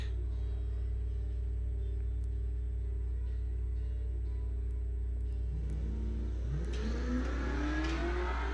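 Hemi-powered Dodge pickup trucks launch at a drag strip; a steady low engine drone swells into a loud revving roar near the end, heard from a distance without talk.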